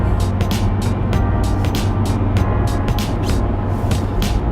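A 2018 BMW 340i cruising on an ordinary road route, its engine and road noise forming a steady, loud drone heard from inside the cabin, with faint ticks and clicks recurring throughout and no one talking.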